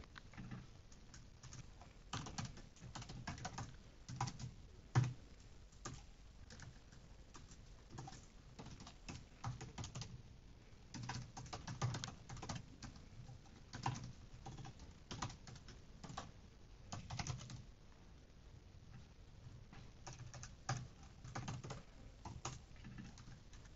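Rapid keystrokes on a computer keyboard while code is typed, an irregular stream of light clicks with brief pauses, close and steady at low volume, with no voices.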